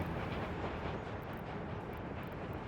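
A train in the Workers and Resources video game, a continuous broad rushing rumble of rail noise, steady and moderately loud throughout with no talking.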